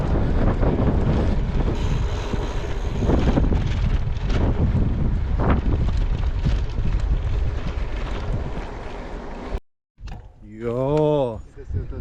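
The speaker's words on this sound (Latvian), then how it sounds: "Vējš ir draņķis ceļās." Strong wind buffets the microphone during a long-distance bicycle ride in Latvia, a loud continuous roar that cuts out briefly near the end, when a voice is heard talking.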